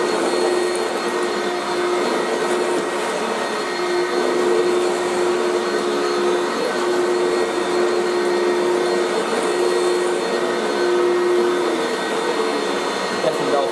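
A Dyson DC01 De Stijl limited edition vacuum cleaner runs with a constant, close motor whine and a rushing airflow, steady from start to finish.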